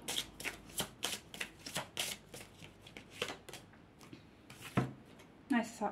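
A deck of tarot cards is shuffled for a reading in quick, crisp riffles and taps that repeat close by, with a few brief spoken words between them.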